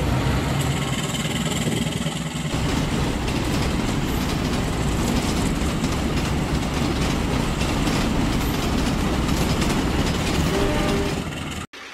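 Train rolling past in an animated locomotive cartoon, a loud continuous rumble with rhythmic clatter of wheels that holds steady for the full length before cutting off abruptly near the end.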